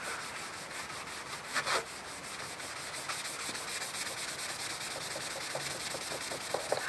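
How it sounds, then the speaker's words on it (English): Steady dry rubbing of a cloth working wax into a vintage crosscut hand saw blade, continuous and close, with a few soft bumps and no voices. "just using a cloth, now I rub it in"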